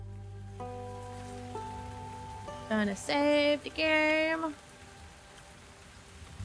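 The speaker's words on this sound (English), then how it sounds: "Oh, it's raining." Game rain falls on a surface in a cozy tavern game, a soft steady patter under a sustained music drone, with someone speaking briefly over it.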